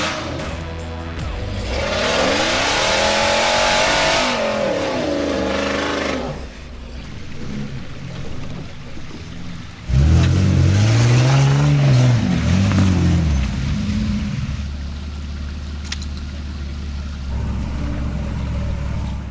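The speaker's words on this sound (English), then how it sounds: "I was able to just really good throttle control and just creep right up it and made it." An off-road vehicle's engine revs and strains as it creeps up a slick, muddy hill on Choccolocco Mountain. Loud, rising and falling throttle surges come in two long pushes, separated by a brief lull, close to the vehicle.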